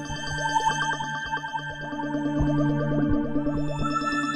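Electric guitar notes and chords ring out with a swirling, sweeping phaser effect from the Woodscaper app that colors the tone throughout, played alone.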